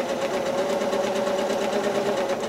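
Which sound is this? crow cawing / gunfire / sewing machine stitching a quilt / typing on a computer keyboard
sewing machine stitching a quilt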